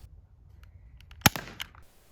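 A single sharp shot launches a projectile through an infrared ballistic speedometer, with one loud crack, a brief rattling tail and a small follow-up click, in an otherwise quiet room.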